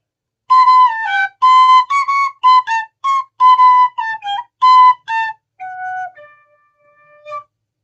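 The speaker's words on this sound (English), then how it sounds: "this is an Irish penny whistle I've got here" A high, clear Irish penny whistle plays a simple tune in short phrases with brief pauses, ending on softer, lower sustained notes.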